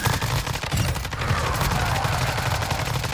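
Rapid gunfire crackles in Call of Duty Warzone's zombie royale mode, dense bursts layered over a busy, chaotic game mix that stays loud throughout.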